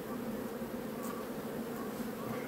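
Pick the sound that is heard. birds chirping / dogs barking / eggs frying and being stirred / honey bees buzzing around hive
honey bees buzzing around hive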